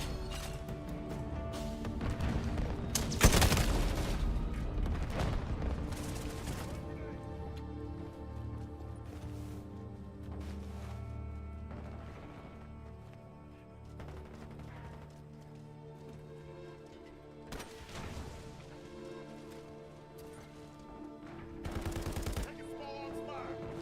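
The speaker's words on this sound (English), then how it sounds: "Taking small arms fire." Gunfire in the MW4 closed beta video game: loud bursts of rapid automatic fire and sharp shots stand out against a steady layer of game sound, with quieter stretches between the bursts.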